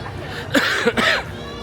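Two harsh coughs burst out close by in quick succession, with background chatter underneath.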